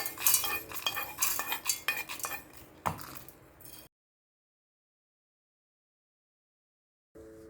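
Metal spoon scraping and clinking against a steel mixer jar as roasted spices are transferred in, a busy run of clatter for a few seconds, then silence before a brief faint sound at the end.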